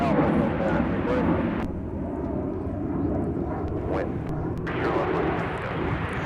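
A Learjet business jet departs from MSP airport with a steady, broad jet roar that dips briefly midway and swells again, heard from a distance.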